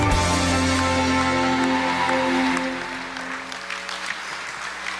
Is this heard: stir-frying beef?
no